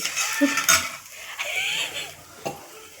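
A metal spoon stirs mustard and cumin seeds as they sauté in a pan, with a few sharp clinks against the rim and a soft, scraping rustle throughout.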